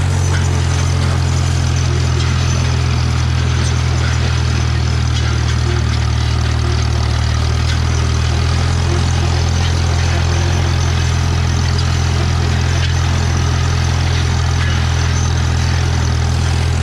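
A tractor engine runs in third gear, a loud, steady low rumble that holds unchanged from start to finish with no pauses.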